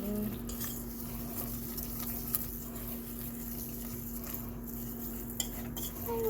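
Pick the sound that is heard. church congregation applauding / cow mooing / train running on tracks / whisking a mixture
whisking a mixture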